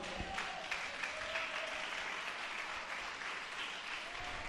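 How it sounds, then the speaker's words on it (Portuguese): A church congregation claps steadily together, a dense, continuous applause that fills the room at even loudness throughout. "Aplaude a Jesus, aplaude"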